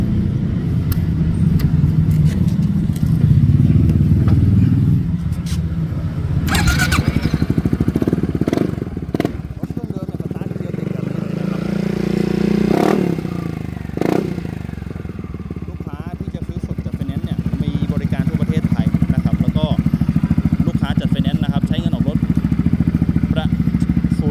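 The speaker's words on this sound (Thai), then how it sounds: "เรามาฟังเสียงเครื่องยนต์ดูนะครับ" A motorcycle engine runs steadily with a low rumbling idle, punctuated by a few clattering knocks and thuds, close up and loud throughout.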